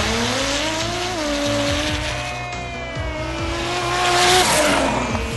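Off-road racing vehicles at the IXOR 2015 Indonesia Extreme Off-Road Racing circuit in Serang, Banten: engines drone and rise in pitch close by, with a continuous roar, rumble and light tire scrabble throughout.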